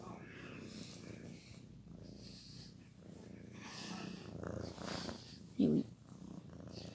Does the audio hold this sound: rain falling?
no